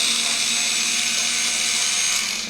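A small Drill Master powered screwdriver from Harbor Freight backing screws out of a Galaxy CB radio base station, a steady high-pitched motor whine held continuously and close, with no talk.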